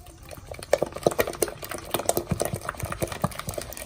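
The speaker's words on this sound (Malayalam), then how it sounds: "ഇനി നമുക്ക് നന്നായിട്ട് ഇളക്കി കൊടുക്കും." Banana fritter batter being stirred, a rapid series of close wet slaps and clicks in an irregular but steady rhythm, with no talking.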